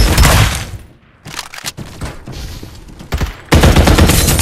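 Gunfire in the battle royale shooter Farlight 84, loud bursts of rapid automatic shots filling the clip with brief pauses between volleys.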